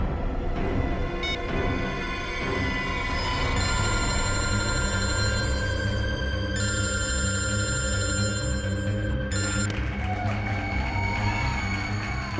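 A mobile phone ringing steadily and loudly with a repeating electronic ringtone, its tone shifting partway through, over a continuous low background.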